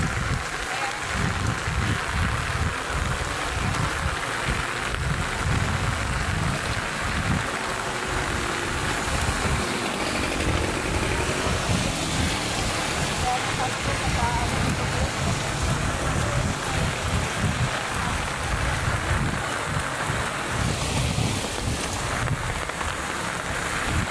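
Heavy rain pours down on a street in Dasmariñas, Cavite, a dense continuous wash of hiss and splatter holding loud and steady throughout, with no talk over it.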